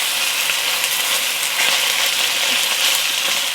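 Chicken pieces and ginger fry in hot oil in a pan, giving a dense, steady sizzle with faint crackles throughout, close and even, with no talking.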